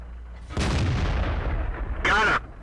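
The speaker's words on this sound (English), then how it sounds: "their artillery is still blind shooting, trying to hit me" Artillery blasts in World of Tanks, one heavy booming shot with a rolling decay followed by a sharper second report near the end, loud and close.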